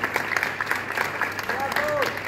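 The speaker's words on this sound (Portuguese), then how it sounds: "Le pido que por favor suba al escenario y que lo recibamos con un cálido aplauso." Audience applause welcomes a film director onto the stage at a film festival in Punta, dense clapping with voices and cheers mixed in throughout, fairly close and steady.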